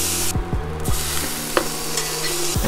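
A home-ground burger patty sears in an oiled pan with a loud, continuous sizzle, and a low repeating hum runs steadily underneath.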